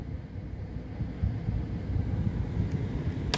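A 1996 Duracraft single window fan set to intake, pulling air in with a continuous low, throbbing hum and rush, steady and fairly close, with a couple of faint clicks near the end.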